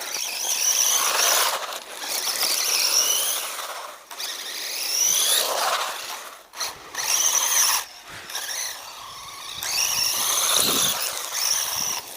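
A ZD Racing TX-16 brushless 1/16-scale RC car whines at high pitch as it spins donuts on gravel, its motor rising and falling in repeated loud bursts with the crunch of stones beneath.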